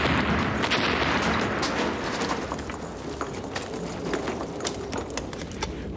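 Artillery and gunfire in a Stalingrad war battle scene, a dense, continuous rumble of distant blasts with scattered sharp cracks of shots, loud and busy throughout, no speech.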